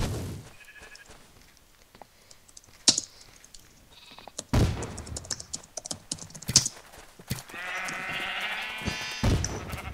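Sheep bleating in the Sheep Quest video game, several harmonic bleats spread across a busy stretch of rapid clicking and keyboard-like tapping, with no talk over them.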